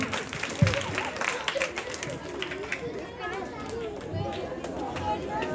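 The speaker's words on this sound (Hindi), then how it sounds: "फैसल के लिए तालियां बजा दें।" An audience at a school annual function claps for a young performer, a moderate scattered applause under crowd chatter and a nearby speaking voice.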